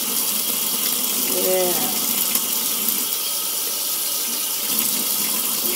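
A makeup brush is rinsed under a steadily running tap, water splashing and gushing into the sink throughout, with a brief spoken word partway through.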